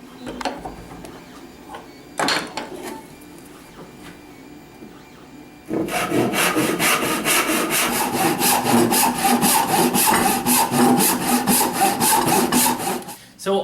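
A handsaw cuts cherry wood for a cigar box guitar neck, starting with a few tentative strokes, then settling into a fast, steady back-and-forth rasp, close and loud, for several seconds before stopping.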